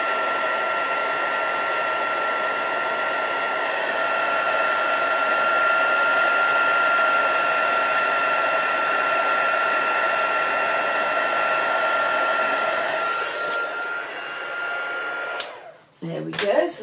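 A heat tool blows hot air over a stamped layer for card making, a loud, steady whirring hiss that runs almost the whole time before cutting off, followed by brief handling clatter.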